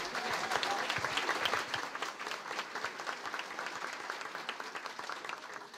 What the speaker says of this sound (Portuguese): Então, palmas!